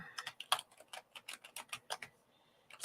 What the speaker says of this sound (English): let me just type that in because I forgot to do it